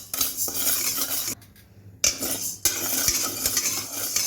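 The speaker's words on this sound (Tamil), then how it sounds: "கடாயை ஆன் பண்ணிவிட்டு இப்போ இந்த உளுத்தம்பருப்பை போட்டு கோல்டன் ப்ரௌன் வாசனை வரும்," Urad dal dry-roasts in a pan while being stirred, a dense rattling scrape of lentils and spoon against metal that stops briefly midway, then resumes close and steady.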